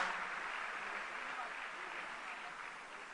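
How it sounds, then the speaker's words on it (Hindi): A crowd applauds Delhi government school students honoured for results in the JEE and NEET exams, with steady sustained clapping at a ceremony that fades slightly toward the end. "एक बार जोरदार तालियों से इन बच्चों का हौसला हम बढ़ाएं।"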